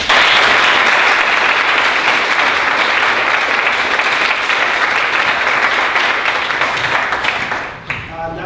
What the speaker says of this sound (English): I'd like to give one last round of applause for all of our guests today